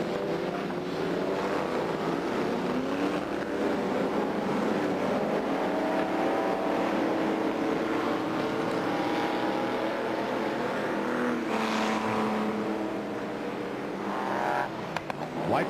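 Stock car engines roaring continuously around a track during a 1989 Hawke's Bay championship race at night, a sustained loud droning of several cars, rising and falling as they pass.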